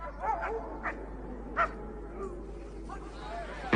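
Sled dogs give sporadic yips and short barks at a moderate distance over a steady low background, with faint murmuring in between.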